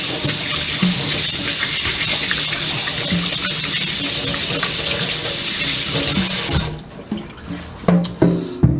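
Hot water gushes steadily from a tap to soak a gun stock and lift its old finish, a loud continuous splash that cuts off near the end, leaving a few soft drips and knocks.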